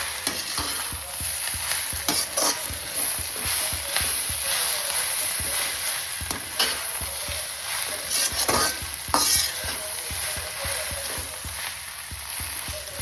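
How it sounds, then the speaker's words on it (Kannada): Onions frying in a pan for a spicy mutton biryani: a continuous close sizzle with repeated scraping, clattering stirs of a spoon against the pan throughout. "ಮತ್ತು ನೀರುಳ್ಳಿ ಪೂರ ಫ್ರೈ ಆನ್ ಬರ್ತದೆ."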